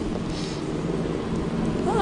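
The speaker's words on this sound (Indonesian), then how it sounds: "Gue pikir lo bakal nembus hujan." Steady rain falls in an outdoor shelter where people wait out the downpour, a continuous wash of drops with a faint low rumble that may be distant thunder, under background voices from a scene in an Indonesian film.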